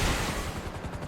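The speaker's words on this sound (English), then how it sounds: "This thing only shoots 4 missiles. I'll show you guys right now." Missiles ripple out of an Annihilator Stealth helicopter in GTA 5 Online as a dense, roaring burst of launches with faint repeated pulses, loud and close, all packed into about a second.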